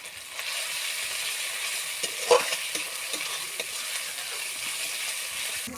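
A spice mix of dried red chili paste, ginger, garlic and onion frying in a pan: an even, hissing sizzle with repeated scraping stirs and one sharper knock midway.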